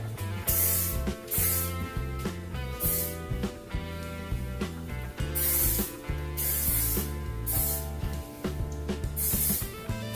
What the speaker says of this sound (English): I'm using the Living Proof Flex Shaping Hairspray, and I'm just going to spray that into this area.